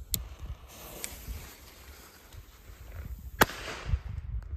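A small Doom Boom Nano firecracker goes off with a sharp, fairly faint bang amid outdoor rustling, with a few smaller pops around it.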